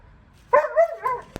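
During guard dog training, a dog gives a single loud, close, drawn-out bark or yelp that wavers briefly, followed by a short sharp click, with no speech over it.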